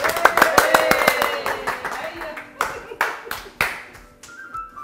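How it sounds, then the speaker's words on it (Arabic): A small group of people clap in bursts, sharp close claps that come fast at first and then thin to sparse, separate hits, with talk mixed in. "صفقوا علينا"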